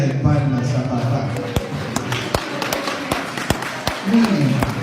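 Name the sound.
congregation clapping hands as an offering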